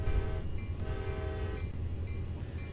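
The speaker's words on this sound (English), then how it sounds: "Let's go ahead and honk the horn twice for forward movement." An EMD/GE locomotive horn in Train Sim World sounds in two blasts, a brief toot then a longer sustained one, over a low rumbling engine idle.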